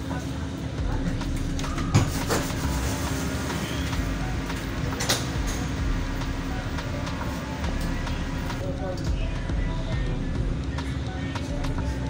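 A Doha Metro train rumbles along steadily with a low, constant drone and faint rattles, while a recorded announcement voice speaks over it.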